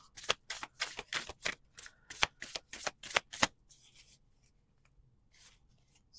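A deck of cards riffle-shuffled repeatedly close by, a quick series of crisp flapping bursts followed by quieter soft rustles and taps, with no talk.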